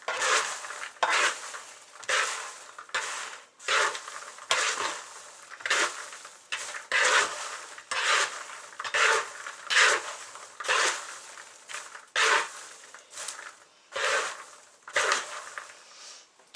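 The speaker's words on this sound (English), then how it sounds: "Another quick stir. And toss." Utensil scraping and clattering against a pan while air-popped popcorn is stirred and tossed, rhythmic repeated strokes with rustling kernels, close and steady over several seconds without talking.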